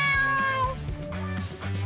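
A house cat that loves going out on walks meows repeatedly, close and clear, with a few drawn-out tonal cries across the stretch and no one talking over it.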